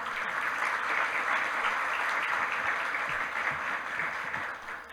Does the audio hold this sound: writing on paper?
no